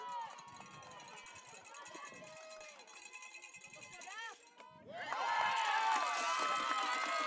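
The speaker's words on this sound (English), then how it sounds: "As you can hear from behind me, anyway, the crowd behind me is all for the blue and white squad" Crowd cheering at a softball game, a distant roar of spectators that swells loudly toward the end, with a commentator talking over it.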